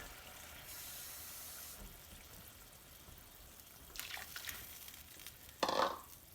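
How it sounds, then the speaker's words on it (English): Water is poured into a pot of simmering brown rice, a soft running splash over a low bubbling background, with a brief louder gurgle near the end. "I need to add a little bit more water."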